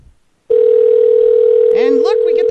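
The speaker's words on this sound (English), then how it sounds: "And look, we get the ringing." A continuous steady ringback tone on an outgoing telephone call, loud and close, holding for about two seconds before a voice cuts in at the end.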